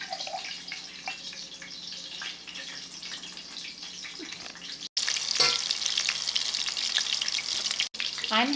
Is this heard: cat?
no